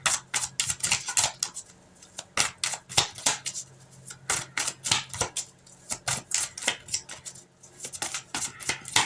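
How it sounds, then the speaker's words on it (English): Rapid clusters of crisp papery flicks and slaps repeat in bursts as tarot cards are shuffled close by, with no speech. "I'm shuffling off camera"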